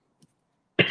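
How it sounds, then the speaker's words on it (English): A single short cough at close range, abrupt and fairly loud, after a moment of near silence and a tiny faint click. "I'm coughing"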